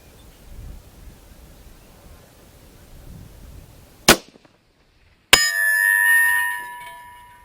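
A long-range rifle cracks once. About a second later a distant steel target rings with a clear, sustained metallic tone as the bullet strikes it.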